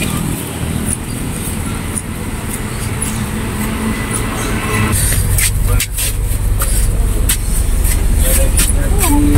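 A Volvo 9100 air-conditioned coach idles at a bus stand during boarding. Its steady low engine rumble and road noise sit under continuous talking, and a few clatters and knocks come near the end.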